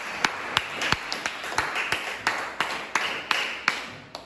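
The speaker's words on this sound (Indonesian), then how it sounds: "beri tepuk tangan untuk kelompok" Applause for a presenting student group in a classroom setting, sparse and uneven claps from a small audience, about a dozen distinct sharp hits spread over a few seconds, fairly quiet with no talking.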